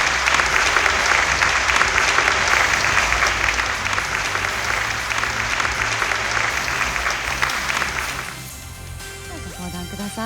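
Loud, dense audience applause fills an awards show hall for a prize-winning team at YouTube Works Awards Japan 2024, steady for about eight seconds before thinning out near the end.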